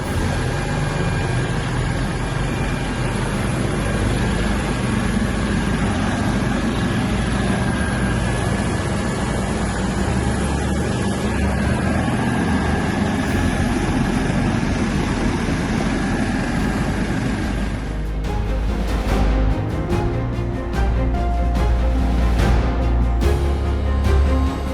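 Basarnas search-and-rescue helicopter during evacuation of ATR 42-500 crash victims in the Lampeso mountains, Pangkep, South Sulawesi; a loud, steady rotor and engine roar runs throughout, shifting to a deeper, choppier thrum near the end.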